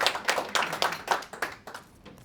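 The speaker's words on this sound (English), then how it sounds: "Give him a round of applause." Audience applause for a volunteer at a mind-body talk, a short run of distinct hand claps that thin out and fade within a couple of seconds, fairly soft in a room.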